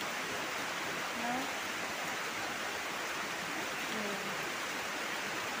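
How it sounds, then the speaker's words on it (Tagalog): Heavy rain pours down in a steady, dense roar that stays even throughout, with faint voices in the background. "Ang lakas na ng ulan. Sobrang lakas."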